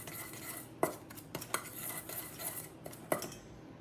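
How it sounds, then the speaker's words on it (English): Muffin batter with melted butter is stirred in a bowl for blueberry muffins, giving a few sharp spoon clinks against the bowl over a soft scraping bed, close and fairly quiet. "I want to mix those together"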